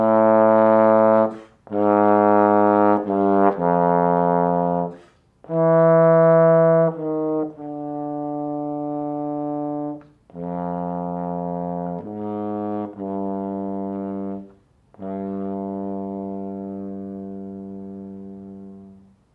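Solo bass trombone playing the soft Brahms Symphony No. 1 excerpt: a slow series of sustained, warm low notes with smooth swells and short breaths between phrases, clear and close.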